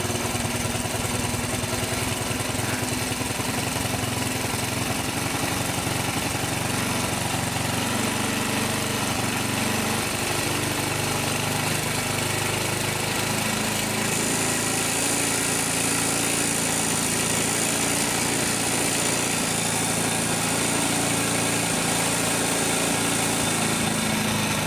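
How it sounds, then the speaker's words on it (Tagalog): A Honda XRM110 motorcycle engine idles steadily for a long stretch during carburetor tuning, a constant rough mechanical drone that stays close with no talking over it. "Hanapin natin yung magandang tunog ng makina"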